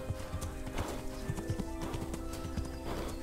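Horse hooves clip-clop in a steady, close trot through the medieval world of the Kingdom Come: Deliverance video game, the rhythmic thuds continuing throughout with no one talking.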